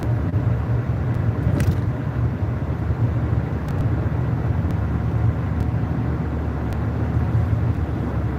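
Steady road noise from inside a car moving among fast traffic, a continuous low rumble of engine and tires with no talk.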